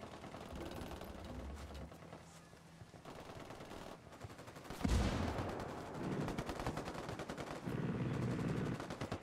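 Gunfire and minigun fire in the Ghost Recon Wildlands video game, with sustained rapid automatic bursts and a loud, heavy volley midway, the firing continuing densely to the end.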